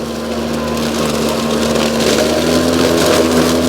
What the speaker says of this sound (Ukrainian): Бачите, як тільки якесь навантаження, двигун відразу збільшує швидкість.